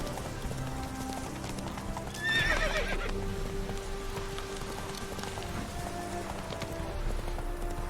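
Roach, a horse in The Witcher 3 video game, gallops with steady clip-clop hoofbeats and lets out a loud whinny early on, set over a constant ambient game background.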